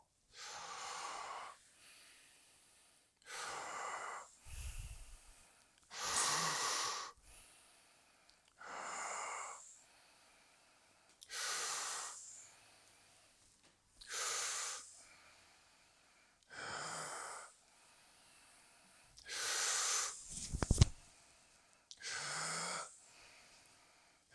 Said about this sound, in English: Just keep the breathing fluid and graceful.